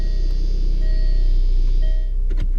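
A 2016 Jaguar XE S with a supercharged 250kW V6 idles close by, its exhaust a loud, steady, low rumble that dips slightly near the end, with no talking.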